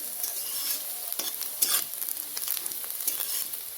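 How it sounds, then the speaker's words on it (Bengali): Onion, garlic, green chili and ginger fry in a pan for a ridge gourd paste while being stirred, a soft, steady sizzle broken by scraping stirring strokes. "আমাদের পেঁয়াজ রসুন লঙ্কা আদা খুব ভালো করে ভাজা হয়ে গেছে"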